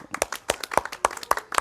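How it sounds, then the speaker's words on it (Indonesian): A scouting group audience claps in a crisp, regular rhythm, several sharp claps evenly spaced about a quarter second apart, close and fairly loud, with no talking. "Luar biasa, tepuk tangan."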